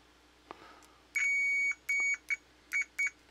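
A multimeter in continuity mode gives a series of short, clear electronic beeps, five in total and uneven in length, close up in a quiet room with no talking.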